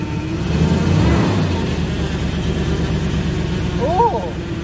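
A Dodge Dakota R/T pickup with a failing transmission sits running, its engine droning low and revving up once near the start, with a brief higher whine late; the rumble stays steady and fairly loud throughout.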